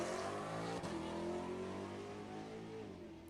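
A 2020 Ford GT500 makes a Street Machine drag racing run, its engine a loud steady roar with a sharp transient near the start. The drone carries on for several seconds and fades slightly.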